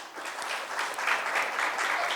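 Applause from a conference audience at a CSR conclave, a steady dense clapping that fills the room for a couple of seconds without talk over it.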